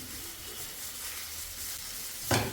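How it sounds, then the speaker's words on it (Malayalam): Banana and egg mixture sautéing in a pan over a low-to-medium flame, a steady close sizzle with one brief louder scrape of a spatula near the end. "ലോ ടു മീഡിയം ഫ്ലെയിമിൽ വെച്ചിട്ടൊന്ന് വഴറ്റിയെടുക്കുക"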